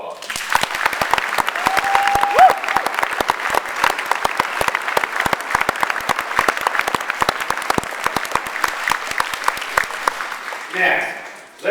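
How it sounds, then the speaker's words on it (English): Applause from a crowd of students for their teachers during a school wrestling team assembly, brisk clapping lasting about ten seconds before tapering off, followed by a brief voice. "give your teachers here a little round of applause"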